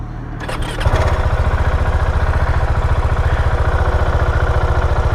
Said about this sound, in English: Sounds like a big thumper, which it is.